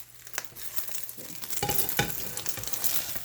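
An egg frying in a pan while being flipped, a close, crackling sizzle that swells louder after the turn, with scattered spits and pops.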